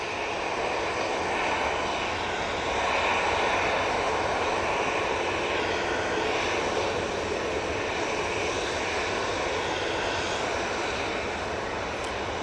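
Airliner engine roaring steadily at Manchester Airport, a loud, broad, continuous jet rush that holds even throughout, with no talking over it.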